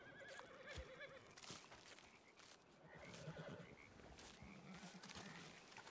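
A video game horse whinnies amid clopping hooves and croaking, frog-like ambience; the sounds are moderately faint and layered, with no speech.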